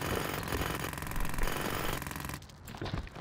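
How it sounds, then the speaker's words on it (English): A jackhammer breaks up concrete in the video game Demolition Company, a loud, steady rapid hammering that runs for a couple of seconds before cutting off, leaving quieter clatter. "Jackhammer."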